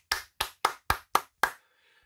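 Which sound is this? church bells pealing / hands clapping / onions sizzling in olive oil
hands clapping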